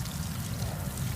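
Water pours steadily out of an outlet during a water temperature check, a continuous rushing flow heard up close with no talking.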